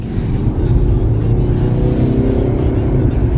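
A car with a two-litre diesel engine producing 450 newton metres of torque accelerates from a start, giving a steady low engine drone and road rumble heard from inside the cabin.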